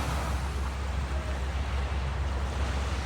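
Ocean waves wash against the shore at Catalina Island, a steady broadband surf hiss with low rumble and some wind, moderately quiet and unbroken by voices.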